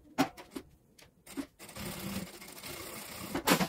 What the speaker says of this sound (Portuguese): e vou costurar na minha margem de 1 centímetro